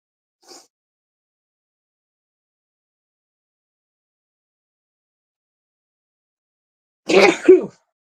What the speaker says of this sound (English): Gotta sneeze before I check the nose.